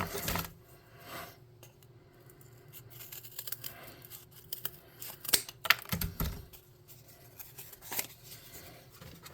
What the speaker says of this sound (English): Let's try it again with scissors.